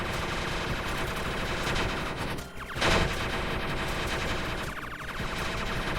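A barrage of shots fired by an eyeball boss in the shooter game Super Crome Bullet Purgatory, a dense, continuous rattle of rapid fire with a short dip and a sharp burst partway through, loud and close, with no talking.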